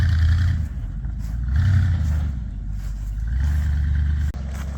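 A Bombardier snow vehicle driving a quick loop on grass, its engine a loud, steady, low rumble that surges and eases as it turns, close by with a brief clunk near the end and no talk.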